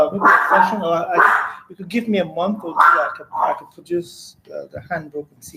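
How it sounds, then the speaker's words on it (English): Pet dog named Coco barking and yipping in short bursts at home during an online meeting, mixed in among a person's ongoing speech. "Sorry for my dog."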